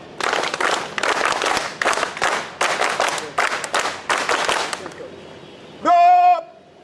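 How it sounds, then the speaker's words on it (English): Scout group in Nashik, India performs a scout clap: a run of rapid, loud, rhythmic claps in tight bursts, ending abruptly, followed by a brief tonal shout or whistle-like note. "Scout clap, go!"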